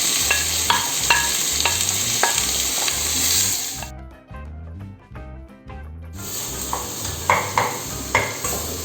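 Onions, tomatoes and green chillies sizzle steadily in a pan while a spoon scrapes and stirs in repeated strokes; the sound briefly dulls midway, then returns.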